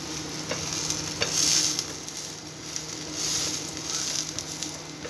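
Onion paratha frying in mustard oil on a hot pan gives a steady, close sizzle with soft crackles and brief scraping swells, no voices over it.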